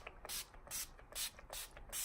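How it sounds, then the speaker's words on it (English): Urban Decay All Nighter makeup setting spray is pumped in a series of short, crisp hissing bursts, about five in steady rhythm, close up and fairly quiet. "The Urban Decay All Nighter, if you spray this, your makeup is not going anywhere at all."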